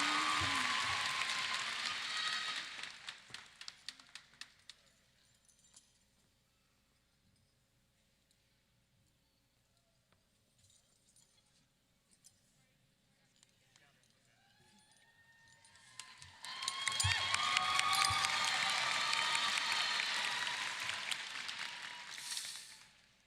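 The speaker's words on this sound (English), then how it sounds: "Let's give him a round of applause." Graduation audience breaks into broad applause and cheering for the senior class president, loud at the start, fading to near quiet, then swelling again strongly near the end.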